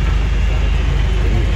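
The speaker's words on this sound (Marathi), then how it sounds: "ही गाडी आम्हाला घेऊन जाणार आहे आमच्या फ्लाईटपर्यंत" Airport shuttle bus carrying passengers across the apron to their plane in Nepal, a steady close engine rumble with road noise throughout, no talk.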